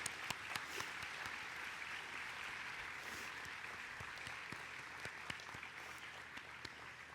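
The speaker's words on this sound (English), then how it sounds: "give them a warm round of applause for all of their support" Graduates at a university arts, social sciences and humanities ceremony give a round of applause, steady moderate clapping with a few sharper claps standing out, fairly quiet and distant.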